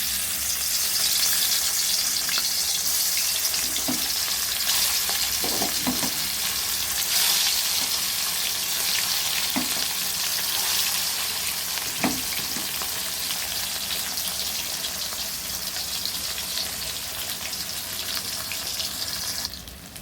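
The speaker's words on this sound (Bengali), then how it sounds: "মাছগুলো এক এক করে ভেজে নেব।" Fish frying in hot oil in a wok, a constant loud sizzle with a few soft clinks and scrapes of a utensil, no voices.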